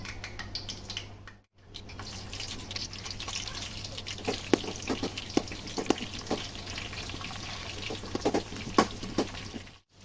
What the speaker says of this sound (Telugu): ఓకే ఆయిల్ అయితే హీట్ ఎక్కింది ఇప్పుడు ఆనియన్స్ యాడ్ చేసుకున్నాం